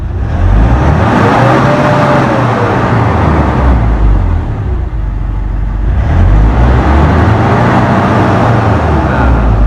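A Nissan NV350 van engine with a P012B fault code revs up to about 4,000 rpm twice, rising and falling loudly and close by with a heavy, continuous roar.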